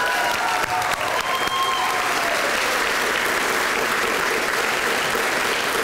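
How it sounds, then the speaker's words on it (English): An audience at a GED graduation ceremony applauds, a dense sustained burst of clapping that holds at full strength without fading. "So let's give them a big hand again."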